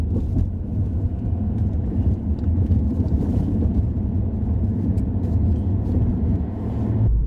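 A Tesla on FSD Beta drives through downtown San Jose, giving a steady, loud low-pitched road rumble and cabin drone from inside the car throughout, with no clear distinct events.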